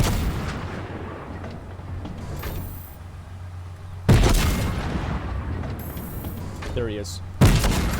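Gunfire in a Fortnite match comes as sharp, loud bursts of shots, with two especially strong cracks standing out between quieter stretches, while someone talks over the fight.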